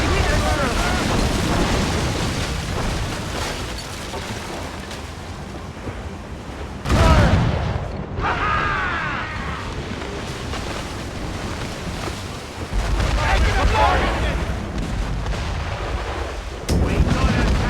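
Ship cannons firing in Assassin's Creed Rogue at sea, with dense, loud booming broadsides and explosions over rushing water and surf, repeated in heavy bursts while crew voices shout throughout.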